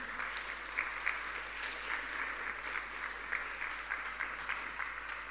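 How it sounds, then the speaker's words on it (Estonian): A large audience gives sustained applause at an IT college's seventeenth anniversary event honoring staff and partners. Steady, dense clapping continues evenly throughout, heard at a moderate distance over a low hum. "teeksime kõik koos ühe suure aplausi"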